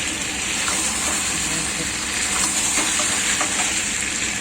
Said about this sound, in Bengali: চিকেনটা কষাচ্ছি।